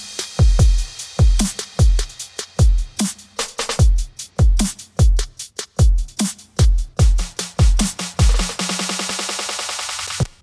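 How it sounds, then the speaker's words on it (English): Drums from the second half of an electronic track's drop play alone: punchy, loud kicks and snappy hits in a driving, syncopated pattern, ending in a fast snare roll that builds into noise. "I'll just play the drums of the second part of the drop here"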